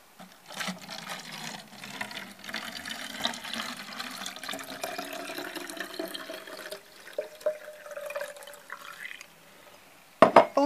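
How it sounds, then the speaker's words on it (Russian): Liquid pest-control solution pours steadily into a half-liter bottle for about ten seconds as a soft, continuous trickle, ending in a brief clatter. "Все, теперь я все это сливаю."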